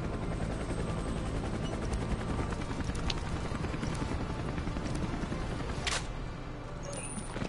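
A helicopter in the video game Black Ops Cold War gives off a steady, faint rotor chop under distant game gunfire and clicks. There is no talking.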